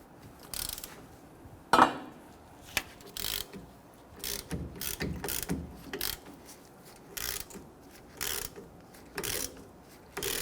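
Ratchet clicking in short bursts while loosening the two 19mm caliper bracket bolts on a rear brake of a 2005-2021 Nissan Frontier, with metallic clanks and a sharp knock near the start, close and moderately loud.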